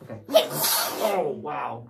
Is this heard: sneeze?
yes